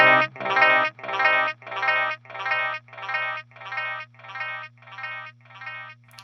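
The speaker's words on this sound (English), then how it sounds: "what you're going to hear is that the delay, as it decays away, it's going to have less and less low end" Guitar signal through a Boss DD-500 delay with a 400 Hz EQ in the feedback loop, heard as about eight evenly spaced, fading echo repeats that grow thinner in the low end with each pass, over a steady low hum.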